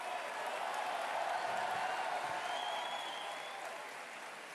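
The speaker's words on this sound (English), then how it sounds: "Thank you all for having applauded all of them now." A large crowd at a French presidential campaign rally applauds the listed candidates, a steady wash of distant clapping and cheering that holds throughout.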